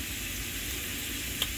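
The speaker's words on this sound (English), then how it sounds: "So now I'm gonna put my fish in the pot." Escovitch snapper and yellowtail fry in a pot of hot oil with a steady, loud, crackling sizzle that never lets up, broken by one small pop near the end.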